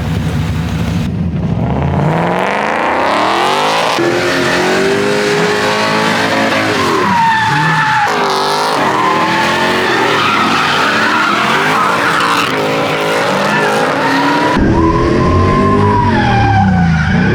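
A car skids and drifts with loud, sustained tire squeal and a revving engine whose pitch rises and falls, close and intense throughout.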